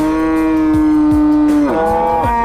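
A pregnant milk cow at a cattle market lets out a long, loud moo close by, its pitch wavering and dropping toward the end, with no talking.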